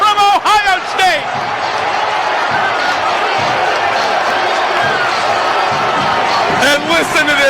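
Big stadium crowd roaring after a rookie's pick-six interception touchdown in an NFL game between the Jets and the Browns, a sustained loud cheer filling the whole stretch beneath excited radio commentary.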